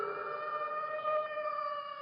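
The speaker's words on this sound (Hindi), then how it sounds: "दरअसल ये एक वेयरवुल्फ की आवाज है" A drawn-out, eerie howl, presented as a werewolf's call in a night forest, holds a steady wavering tone for about two seconds, moderately faint and alone.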